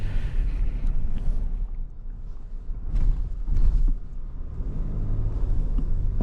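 A 2025 Infiniti QX80 SUV engine hums and rumbles steadily while driving, with road noise and occasional swells in the low drone.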